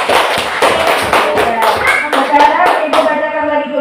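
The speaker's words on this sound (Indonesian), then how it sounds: "ada tepuk tangan" Primary pupils in a classroom clap for the maritime group, several seconds of fairly loud, rhythmic claps and taps with children's voices running underneath.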